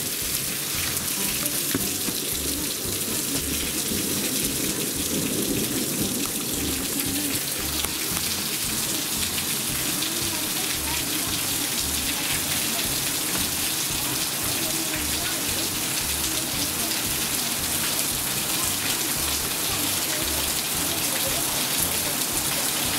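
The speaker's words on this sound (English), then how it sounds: "it's raining quite a lot." Heavy summer rain gives a dense, constant hiss of falling drops that stays steady and loud throughout, with no talking.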